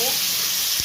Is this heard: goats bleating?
no